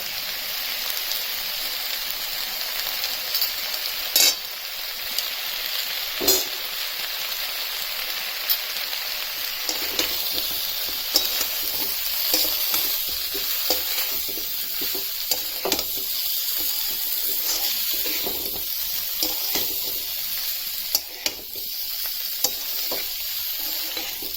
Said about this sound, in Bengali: এবার এই গুঁড়ো মশলাটা এর সঙ্গে মিশিয়ে দেব।